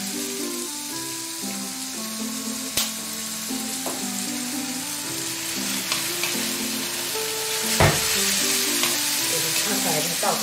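Pickled mustard greens stir-fried with soy sauce in a hot pan, a steady loud sizzle running throughout with scraping stir strokes and a couple of sharp utensil knocks, no talking.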